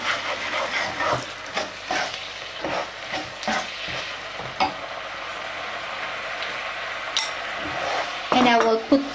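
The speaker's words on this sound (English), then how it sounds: "I add on some cornstarch to thicken the sauce" Soya sauce thickened with cornstarch is stirred in a pan, giving a steady sizzle with scraping strokes and light clinks of the utensil against the pan.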